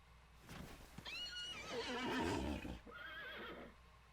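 A horse in the video game Disney Infinity whinnies loudly twice, a long, wavering neigh followed by a shorter one, with faint hoof clip-clops and game sounds underneath.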